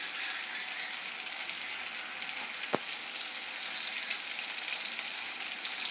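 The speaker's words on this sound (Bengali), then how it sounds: "এটা হাই ফ্লেমে হালকা সতে করে নেব।" Soya chunks sauté in a wok over a high flame, giving a steady, dense sizzle throughout with one brief sharp click partway through.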